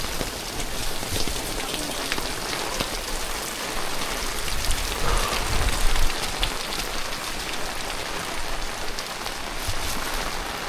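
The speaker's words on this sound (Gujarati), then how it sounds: "બહુ જ અતિ ભારે વરસાદને કારણે છત્રી લીધી" Very heavy rain beats down at Pavagadh, a loud unbroken roar of water with close drumming drops, swelling slightly midway and continuing without pause.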